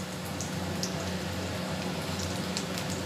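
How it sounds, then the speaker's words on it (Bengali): Lentil fritters (bora) fry in hot oil, a soft continuous bubbling sizzle with scattered faint pops and crackles, fairly quiet and steady throughout. "বড়াগুলো ভালোই ভাজা হচ্ছে"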